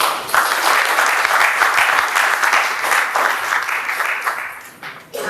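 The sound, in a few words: audience applause after lecture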